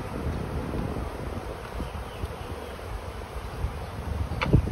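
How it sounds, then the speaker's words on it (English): Honey bees buzz in a loose swarm in front of a hive, a soft continuous drone with wind and rustling, and a single bee zipping close past the microphone at the end. "this almost looks like another swarm is happening in the beginning, in the front of this hive"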